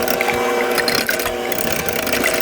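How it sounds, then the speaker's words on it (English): An electric mixer runs steadily at its lowest speed, gently whipping eggs, with a continuous even whirring hum close by and no talk. "Do not put it on your mixer on anything higher than the lowest speed."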